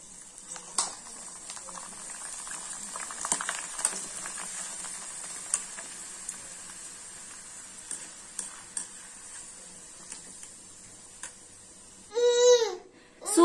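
Hot oil in a wok fries and bubbles gently, with a steady soft sizzle and occasional small crackles and ticks; a brief voice cuts in at the very end.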